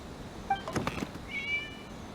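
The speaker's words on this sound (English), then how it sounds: "It was just a cat." A cat in the video game Genshin Impact gives a short meow and a brief second mew, close and fairly quiet over a faint background, with a soft thump between.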